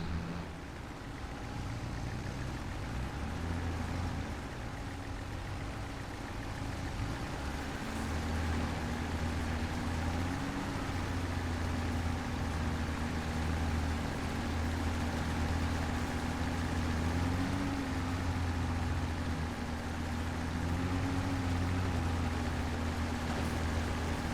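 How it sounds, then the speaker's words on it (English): In Farming Simulator 22, a tractor pulls a trailer with a steady, unbroken engine drone and low rumble, continuous and moderately loud throughout. "This trailer's pulling okay with this tractor"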